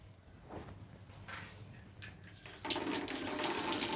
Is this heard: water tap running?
yes